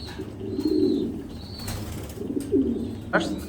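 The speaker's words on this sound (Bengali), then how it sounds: "কবুতরটার কোয়ালিটি দেখতেই পাচ্ছেন ভিডিওর মধ্যে খুবই সুন্দর একটা কবুতর এটা" Racing pigeons with club tags coo in low, throaty bursts, with a brief flutter of wings near the end; someone talks over the birds in a close, indoor-sounding space.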